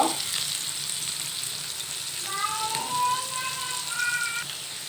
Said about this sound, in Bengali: ভিতরে আমি পিঁয়াজ রসুন আর শুকনো মরিচ দিয়ে দিচ্ছি সব একসাথে ভেজে নিব